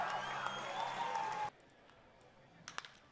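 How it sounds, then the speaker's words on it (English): A sellout baseball crowd cheers loudly after a two-run RBI single, a dense roar filling the first half before cutting off abruptly into quiet ambience with a few faint knocks. "2 RBI single by Tyler Cox brings a sellout crowd to their feet."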